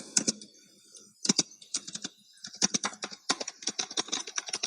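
Typing on a computer keyboard while entering text in Adobe Illustrator, heard up close as quick clusters of sharp key clicks with short pauses between bursts, faster and denser toward the end, with no talking.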